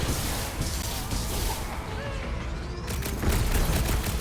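Continuous battle gunfire in Marvel's Guardians of the Galaxy video game, a dense, steady wash of shots and impacts with no clear gaps, voices faintly mixed in.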